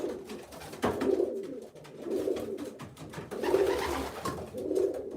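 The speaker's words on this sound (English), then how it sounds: "That's the biggest pigeon I own right there." Racing pigeons coo in a loft, a repeated rhythm of soft, low, throaty coos close by, one phrase after another with brief pauses and a light flutter near the start.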